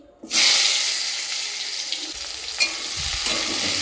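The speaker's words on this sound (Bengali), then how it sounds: "তো প্রথমে পটল ভেজে নিচ্ছি" Pointed gourd pieces drop into hot oil in a wok and burst into a loud, steady sizzle that holds throughout, with a few stirring clanks near the end.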